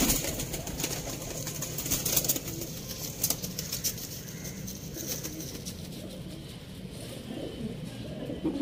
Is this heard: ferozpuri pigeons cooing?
yes